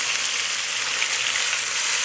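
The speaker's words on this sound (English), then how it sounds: "we're turning it down a little bit so it sizzles" Tomato sauce for pasta marinara sizzles in a pan over lowered heat, a steady crackling hiss heard up close with no voices.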